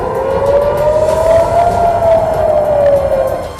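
Air raid warning siren sounding in Tel Aviv, a loud, near, continuous wailing tone that slowly rises and then falls, heard alone.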